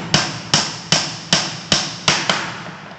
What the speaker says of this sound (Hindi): सावधानी से चौरसी चलाएं दोस्तों।